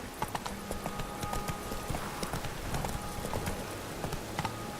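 Roach, a horse in The Witcher 3, trotting with a steady rhythmic clip-clop of hooves, close and clear, continuing throughout with a faint musical drone beneath.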